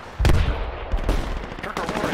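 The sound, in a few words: gunfire in the video game Project Reality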